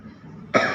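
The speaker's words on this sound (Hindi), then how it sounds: "कौन खांस रहा है?" One sharp, close cough bursts out after a moment of quiet room tone, loud and abrupt with a short raspy tail.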